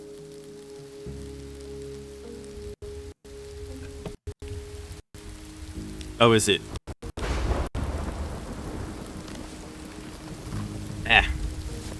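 Rain falls steadily in the survival video game Rising World, with a rumble of thunder and the sound cutting out several times, while a player briefly speaks over it.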